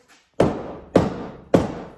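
A hatchet head is hammered down onto its wooden handle in three evenly spaced, sharp, close thuds, each with a short ringing decay and no talk.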